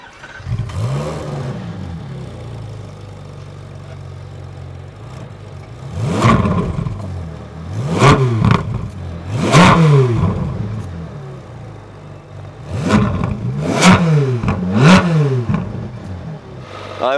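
A naturally aspirated Ferrari 458 Speciale engine starts and settles into idle, then blips repeatedly through sharp rising-and-falling revs in several close bursts, loud and near.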